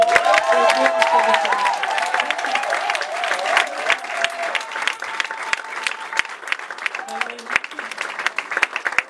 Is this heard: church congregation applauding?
yes